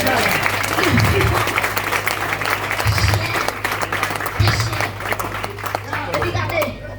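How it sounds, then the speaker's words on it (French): A church congregation applauds and claps in worship, steady crowd clapping with chatter layered over a low sustained hum, while a voice speaks intermittently throughout. "Acclamez Jésus, acclamez Jésus"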